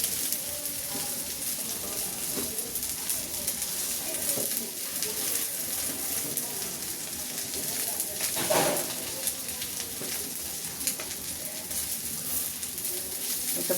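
Beef brain slices fry in oil with a constant, moderately quiet crackling sizzle over several seconds, and faint talk mixes in.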